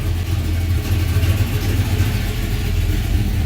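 A 1978 Ford Courier engine runs with its belt spinning, a steady low mechanical hum and drone that holds at an even level with no voices.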